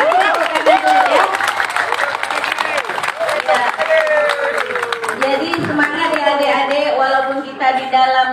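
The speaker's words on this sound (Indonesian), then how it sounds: "kasih tepuk tangan dulu ya" An audience at a school flag-team (paskibra) event claps and cheers together, with dense sustained applause and crowd noise running throughout and voices mixed in.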